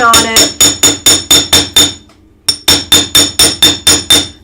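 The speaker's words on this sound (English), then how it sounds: "I'm just going to hammer it with my chasing hammer." A chasing hammer striking round wire: a fast, steady run of sharp metallic blows, about eight in a row, then a short pause and another equally regular burst, loud and close with no talking.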